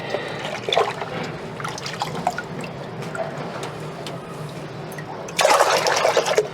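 Water pours and splashes into a container of homemade liquid NPK fertilizer in bursts, ending with a louder, steady gush of liquid.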